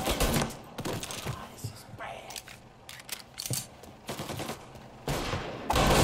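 Tommy gun bursts in Mafia: Definitive Edition, loud rapid automatic volleys crackling in repeated clusters with gaps between them, mixed with game noise while someone speaks briefly.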